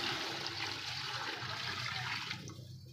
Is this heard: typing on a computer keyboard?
no